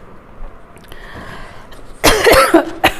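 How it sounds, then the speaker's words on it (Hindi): A woman gives a few loud, harsh coughs in quick succession at close range, breaking a quiet stretch during a Hindi tarot reading, with one last sharp cough just after. "सॉरी, मेरी खांसी को थोड़ा सा इग्नोर कीजिए।"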